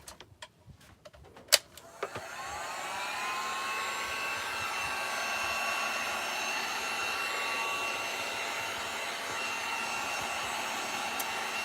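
A handheld dryer blowing on wet paint on a Dollar Tree craft sign, switching on after a few handling clicks and then whirring steadily and close, with no speech.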